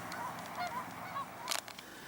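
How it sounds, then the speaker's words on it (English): Canada geese by a shoreline with seaweed, giving faint scattered honks at a distance, with a louder burst near the end and no talking. "All these Canadian geese."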